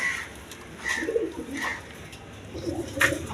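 Basiraj coca pigeons cooing in a pet pigeon market, a few soft low coos repeated at intervals over faint background murmur.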